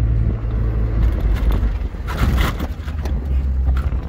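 A 4x4 drives down into deep desert sand, its motor droning under a rough, shifting crunch and scrape of tires churning through loose sand, loud and close throughout, with no talk.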